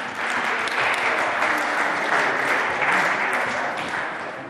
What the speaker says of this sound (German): ich glaube, denen geben wir einen Applaus, aber das Publikum weiß, was notwendig ist